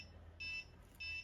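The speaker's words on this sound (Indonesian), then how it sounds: "maka alarm dari buzzer akan berbunyi" The buzzer of a simple homemade landslide detector gives two short, faint, high electronic beeps in a quiet room, separated by a brief pause.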